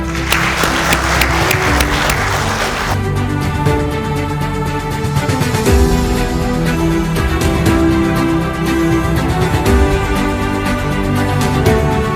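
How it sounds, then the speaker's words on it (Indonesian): Applause from the audience at an Indonesian workers' union unit meeting. Broad clapping runs steadily for the whole stretch over background music or tones and stays loud and close throughout. "Tepuk tangan untuk kita."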